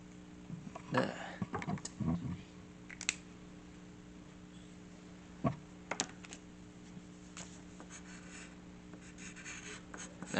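A pen scratches across paper in a basement setting, with intermittent strokes and scribbles bunched near the start and scattered later, faint and close, over a steady low hum.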